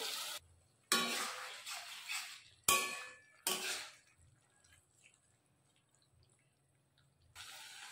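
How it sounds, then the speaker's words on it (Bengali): A little water poured into chicken ghugni cooking in a pan, two or three short splashing bursts with a hiss, separated by quiet gaps, then a faint clatter near the end. "আর সামান্য একটু জল দিয়ে দেব"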